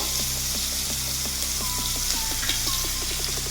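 Chopped ginger, crushed ginger-garlic and chopped onion sizzle steadily in hot oil in a pan for a Bengali prawn curry, a continuous close frying hiss with light crackles and faint utensil clinks.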